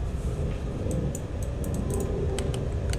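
Computer keyboard keys are pressed in scattered, uneven bursts of sharp clicks over a steady low background hum, close and moderately loud, no speech.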